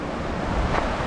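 The Jordan River in Argentina's Termas del Río Jordán rushes past in a dense, steady roar of flowing water, loud and close, mixed with wind buffeting the microphone.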